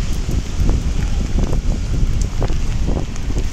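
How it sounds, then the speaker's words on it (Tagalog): Strong wind beats straight into the microphone by the river esplanade beneath Quezon Bridge, giving a loud, constant rumbling buffet for the whole stretch. "lakas ng hangin"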